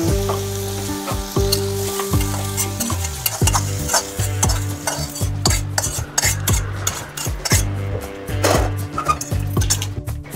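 Sautéed bitter gourd is stirred in a sizzling pan, with repeated rhythmic scrapes and clanks of the spoon over a steady frying hiss, close and fairly loud with no talk.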